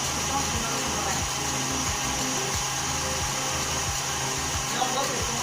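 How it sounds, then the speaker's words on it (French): An electric mixer whipping meringue for a hazelnut bûchette runs with a steady, loud motor whir and a faint rhythmic beating pulse, with speech over it. "Je vais arrêter le batteur."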